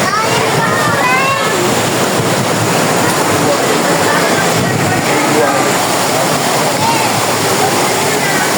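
Shower Falls at Mother Falls in Maria Aurora pours in a steady, loud, close rush of falling water that fills the whole stretch evenly, with faint chatter of visitors mixed into the roar.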